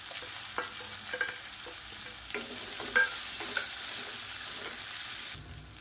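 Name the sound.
chopped onion frying and being stirred in hot oil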